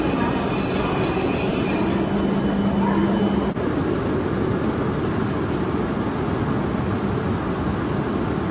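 A steady roar of a Shinkansen high-speed train running, with a constant rushing rumble and a faint squeal early on, heard from inside a crowded carriage.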